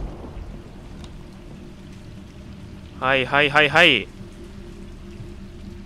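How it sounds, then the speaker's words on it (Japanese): A tap left running in a house in the Resident Evil 3 remake gives a faint, steady hiss of flowing water, with a short spoken word breaking in midway. "なんか水の音が聞こえますね。"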